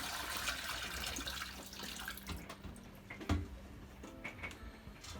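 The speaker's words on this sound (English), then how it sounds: "then I'm going to empty it out into the sink." Unpurified water emptied from the top compartment of a Berkey water purifier into a sink: a soft continuous pouring splash close by, with a few small knocks, and no talking.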